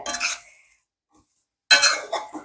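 Tuna roast with curry leaves and pepper stirred in a pan, two short bursts of metal spoon scraping and clinking against the pan separated by a second of silence.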